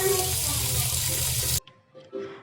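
Tap water runs steadily into a sink as leafy greens are washed at home in a kitchen, a loud continuous stream that cuts off abruptly, followed by faint clatter.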